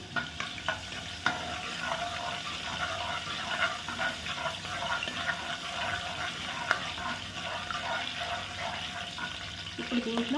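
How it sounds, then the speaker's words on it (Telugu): Chana dal, urad dal, cumin and mustard seeds sizzle and crackle softly in hot oil in a pan. The frying is steady with small pops and some stirring, and no one speaks. "ఆయిల్ అయితే వేడింది తాలి గింజలు పచ్చనగపప్పు మినప్పప్పు జీలకర్ర ఆవాలు ఇవైతే వేసుకోవాలి"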